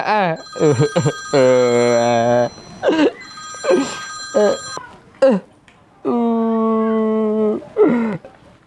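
A telephone rings in two long bursts with a sustained tone, loud and close, alternating with voices talking between and around the rings.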